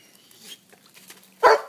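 After a few faint stirrings, a dog gives one sharp, close bark near the end.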